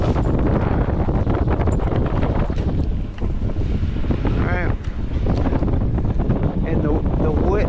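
Strong, below-zero wind blasts outdoors on an island in a loud, continuous roar that buffets the microphone. A voice speaks over it.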